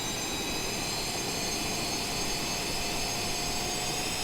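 A Su-35 fighter jet taxis in Microsoft Flight Simulator, its engines giving a loud, steady, unbroken roar with a high whine running through it for the whole stretch.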